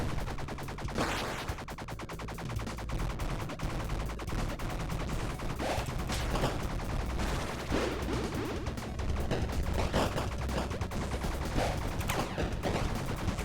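Rapid pistol gunfire rattles through a video game, with dense bursts of repeated shots and impacts that keep up without a break for the whole stretch, with no voices heard.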